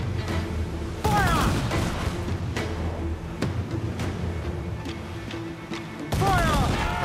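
Pirate ship cannons firing during a naval battle in the Assassin's Creed Black Flag video game, several loud booming blasts going off in irregular bursts over continuous game noise, with shouting voices between shots.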